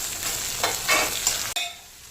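Tomatoes tipped into a pan of frying onions while making chicken gravy, giving a steady close sizzle with stirring scrapes and a brief sharp clatter near the end, no voices.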